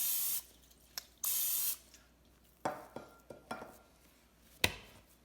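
Two long hissing bursts of cooking spray onto a bowl close by, followed by a few light clinks and taps in a quiet room.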